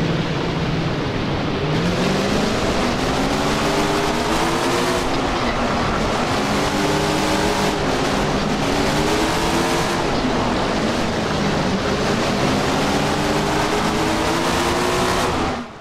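Sprint car engine sound from the Tony Stewart's Sprint Car Racing PC game, a continuous synthetic drone whose pitch rises and falls repeatedly in waves, loud and steady.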